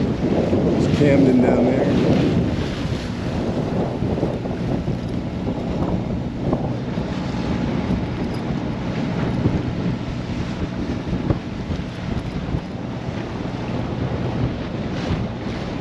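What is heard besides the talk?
strong wind at sea on a sailboat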